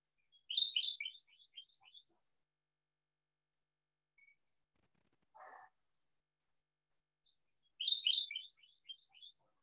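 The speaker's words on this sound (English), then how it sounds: "this one here, Kentucky warbler, we got locally up at Eleanor Clapp Phipps. And so it was really singing its butt off." A Kentucky warbler sings two bright, rapid rolling phrases of repeated chirped notes several seconds apart, clear and fairly close against near silence, with a faint brief rustle in between.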